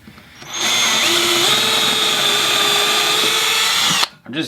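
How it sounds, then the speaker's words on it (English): Power drill boring an 11/64 hole, spinning up to a loud, steady high whine for about three and a half seconds, then cutting off abruptly. "So right now I just drilled an 11/64 hole"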